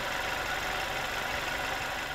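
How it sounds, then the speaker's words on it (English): A 2022 Mercedes-Benz GLB 250 4MATIC engine idles with a steady, coarse, slightly diesel-like rumble, heard continuously and fairly loud from outside the vehicle, with no talking. "Aurally, it's more coarse and diesel-y than many direct-injected engines."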